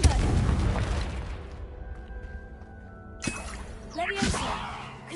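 Confringo fire-blast spell going off in Hogwarts Legacy, a sharp booming burst followed by crackling and a second impact, with a voice calling out spell names over the game audio.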